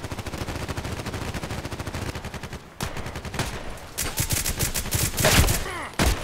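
Rapid bursts of gunfire in the online shooter Contract Wars, dense and continuous at first and then more scattered shots with louder cracks near the end.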